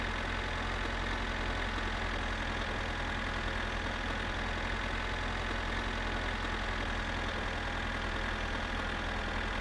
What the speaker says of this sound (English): he put the sound that the train makes when it's traveling on the tracks into the background noise for the engine of the tractor